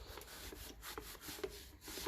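Dirt and rust are rubbed off an old metal sign in a shed, quick rough scrubbing strokes repeating close up at a low level.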